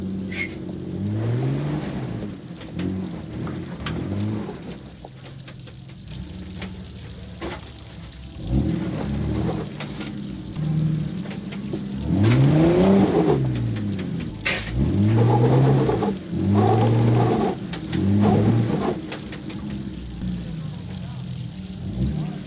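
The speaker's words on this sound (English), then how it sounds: "The rocks that were stacked there were already in place, but were consequently moved by my Jeep while trying to climb this obstacle." A Jeep's engine revs repeatedly as it climbs a rocky ledge on the Hidden Falls trail, rising and falling in strained surges, the loudest bursts in the latter half, with crunching and scraping underneath.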